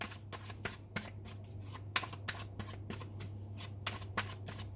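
Tarot cards being shuffled by hand, a fast run of crisp riffling flicks and slaps in a steady rhythm, close and fairly quiet over a low steady hum.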